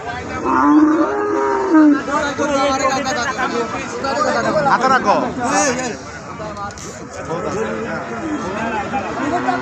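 Cattle at a busy rural livestock market, with loud, close moos rising and falling through the clip over a background of crowd chatter and people talking nearby.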